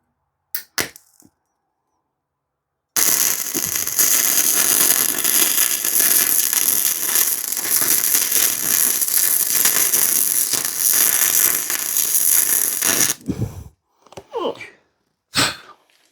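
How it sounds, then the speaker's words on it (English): Sefaspe Mig205DS MIG welder, a 110-volt machine, running a steady crackling, sizzling bead on heavy metal for about ten seconds, loud and close, with brief handling noises before and after. "Okay, there we're welding like a pro."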